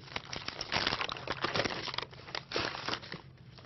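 Paper wrapping being peeled and unwrapped from a tin can, a close, continuous crinkling and crumpling with louder rustling bursts throughout.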